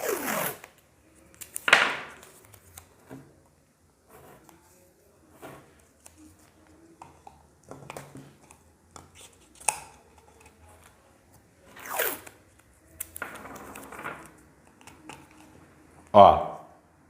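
Adhesive tape pulled and torn in short bursts while fixing a wire bonsai sculpture to a ceramic pot, several crisp ripping strips spread through the span amid handling noises and a voice talking.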